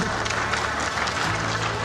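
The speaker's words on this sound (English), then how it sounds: "Please, a resounding applause for them" An audience gives a round of applause at a formal gathering during an excursion trip to Abuja, a dense and steady wash of many hands clapping together that fills the room without pause.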